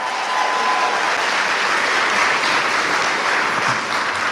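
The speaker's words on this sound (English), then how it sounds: "I think they deserve another round of applause." Sustained, dense audience applause fills a Kathak dance recital hall, loud and steady from start to finish with no voices over it.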